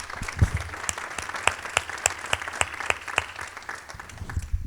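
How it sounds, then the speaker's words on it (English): Applause from the audience at a nonprofit awards ceremony, a steady round of clapping with sharp individual claps standing out, nearby and moderately loud, lasting throughout without talk. "A round of applause."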